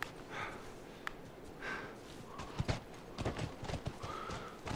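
In The Last of Us video game, horse hooves clip-clop at a walk alongside soft snorts and a whinny, set against a faint outdoor background.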